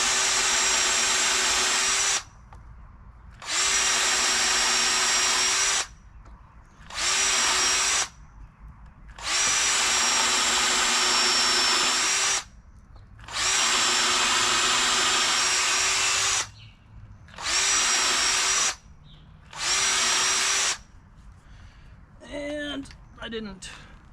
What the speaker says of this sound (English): now back to the smaller drill bit